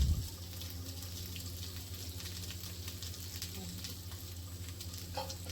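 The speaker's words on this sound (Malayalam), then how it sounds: "തേങ്ങ ചേർത്ത് കൊടുക്കാം." Grated coconut fries and is stirred in a pan, producing a constant close-up sizzle with a thump at the start and soft scraping throughout, with no one speaking.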